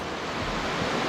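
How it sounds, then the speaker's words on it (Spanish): Water rushing at a little-known waterfall in a rocky ravine near Salamanca, Coquimbo, Chile: a dense, continuous broadband roar, steady and fairly loud, with no voices. "el correr del agua"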